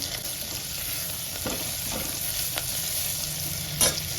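Asafoetida is tipped into a pan of hot oil and stirred, a soft steady sizzle with a few light scrapes and a small clink near the end, with no talking.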